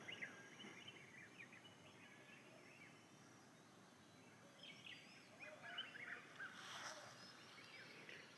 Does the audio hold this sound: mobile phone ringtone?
no